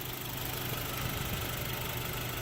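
The engine of a 2014 ninth-generation Honda Civic Si idles with a steady, even hum and faint mechanical vibration, quiet and unbroken, with no voices.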